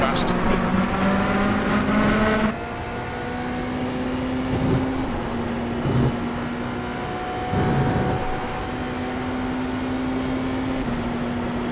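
A BMW LMDh race car lapping Watkins Glen in the iRacing sim: a steady, droning engine note that shifts pitch through gear changes, with someone talking over it.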